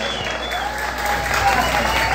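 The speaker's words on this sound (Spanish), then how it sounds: "vamos a dar un fuerte aplauso a estas" Applause from an audience inside a church during a live performance, a steady wash of clapping filling the whole short stretch at an even level.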